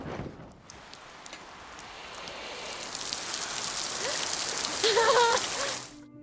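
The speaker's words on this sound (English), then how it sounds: "heavy rain starts pouring down from the sky" Heavy rain pours down at sea on a wrecked yacht in the Pacific, a dense hiss that swells gradually and stays steady, with a few faint tonal squeaks near the end.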